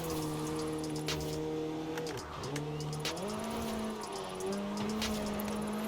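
All-wheel-drive car drifting through a drift zone in Forza Horizon 4: a steady, loud engine drone that dips and rises in pitch as the car slides, continuous over about six seconds.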